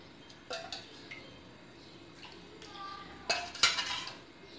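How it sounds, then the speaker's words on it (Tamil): Milk being poured into a bowl of egg paniyaram batter and stirred with a ladle. Light clinks and scrapes of the utensil against the bowl come in short, close bursts at a moderate level, with no talking. "இதே மாதிரி 3 கரண்டி பாலை ஊற்றி நல்லா கலக்கி வச்சுக்கிறேன்."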